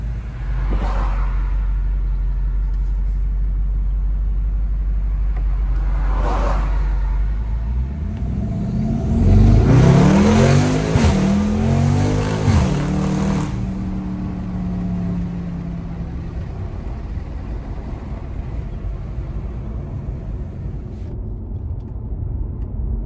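A BMW M550i with catless downpipes idles low on a dyno, then revs hard through a rising, roaring pull before dropping back to a rumbling idle, with its exhaust sound setting in reduced mode.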